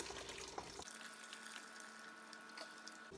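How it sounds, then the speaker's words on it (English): Rendered beef tallow strains slowly in a quiet, steady liquid trickle with a few faint clinks, heard alone. "So we're just gonna strain it nice and slow, not go for the fast strain."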